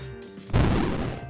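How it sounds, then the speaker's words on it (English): Fire trap sound effect from a Unity 2D platformer, a sudden whooshing burst of flame that swells in loudly and roars on for under a second before easing off, standing alone without talk. "check out the fire trap sound"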